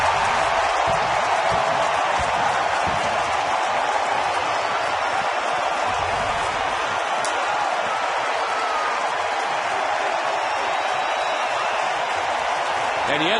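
Stadium crowd in Minneapolis roaring steadily after Orlando Hudson's home run in a Texas at Minnesota baseball game, a dense, loud, sustained cheer that fills the whole span without letting up.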